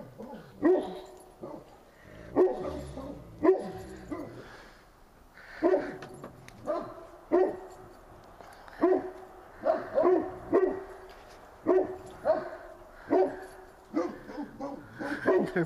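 Several dogs bark repeatedly in uneven bursts, fairly close, with some whimpering yips mixed in and no one talking.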